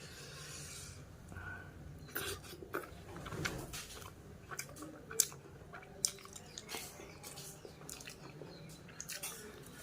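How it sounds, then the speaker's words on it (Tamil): Close, soft chewing of a mouthful of mashed tapioca mixed with chicken curry, with wet squishes and irregular clicks and smacks spread across about ten quiet seconds and no speech over them. "இது நல்லா பிணைஞ்சு விட்டு சிக்கன் கறியும் சேர்த்து ஒரு வாய் போவோம்"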